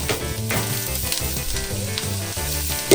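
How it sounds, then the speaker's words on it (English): Onion frying in hot sunflower oil in a large pot, a steady loud close sizzle with crackling and occasional stirring scrapes, no talking. "pour some sunflower oil, which once it warms up, then we're gonna go ahead and add the onion"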